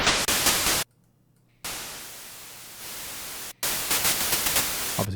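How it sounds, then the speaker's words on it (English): A synthesizer's noise generator gives a loud, harsh white-noise hiss that cuts off abruptly, returns softer, drops out again, then comes back with a pulsing, choppy texture. "grab a noise generator down here in the bottom, and we're just turning it up and making it a white noise"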